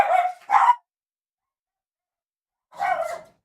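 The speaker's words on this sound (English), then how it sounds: "Can you hear my dogs, by the way" Pet dogs bark indoors during a thunderstorm: two quick close barks, a pause of about two seconds, then one more longer bark, loud and clear against silence.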